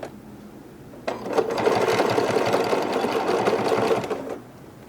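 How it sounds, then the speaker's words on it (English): A sewing machine runs in one continuous burst of a few seconds, stitching reinforcement across the shoulders of a fabric garment bag, its rapid needle clatter close and loud after a quiet start, then stopping. "I'm taking my serger tails and making sure I actually hit them with the sewing machine."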